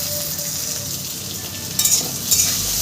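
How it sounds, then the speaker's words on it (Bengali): Okra fries in mustard oil in a pan with a close, steady sizzle and a few brief scraping stirs near the end. "আবার আমি আর একটু ভেজে নিলেই হয়ে যাবে দেখো ফ্রেন্ড ভেন্ডিটা আমার ভাজা হয়ে গেছে"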